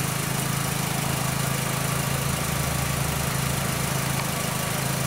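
A Volkswagen engine with a cylinder 3 misfire idles close by, a constant low rumble with a slightly uneven pulsing beat and no talking.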